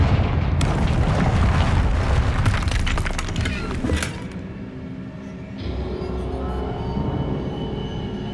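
A Confringo spell blast in Hogwarts Legacy, a dense crackling burst filling the first half with sharp bright cracks near the four-second mark, then fading into a low rumbling tail with a faint tonal hum.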